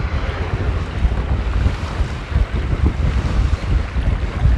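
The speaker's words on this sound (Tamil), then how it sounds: "பாருங்கள் இவ்வளோ காற்றாக இருக்குது" Strong storm wind roars over the flooded coast of Jaffna, Sri Lanka, buffeting the microphone loudly and constantly, with surf churning underneath.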